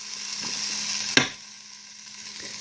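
Onion frying in a Ninja Foodi gives a soft, steady sizzle with one sharp pop partway through, then settles quieter.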